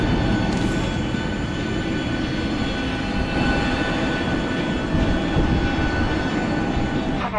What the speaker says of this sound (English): your background aeroplane noise